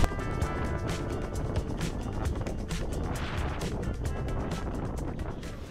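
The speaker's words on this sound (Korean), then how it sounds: "바람이 많이 불고 날씨가 안 좋으니까" Strong typhoon wind roars across Ulleungdo island, a loud, constant buffeting rush with gusty thumps, close and unbroken for several seconds, with no voices.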